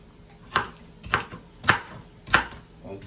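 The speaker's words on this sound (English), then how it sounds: "While that's simmering, cut your green pepper." Green pepper being chopped with a knife on a cutting board: four distinct, evenly spaced thuds, each with a short crisp crunch, close and clear with no talking.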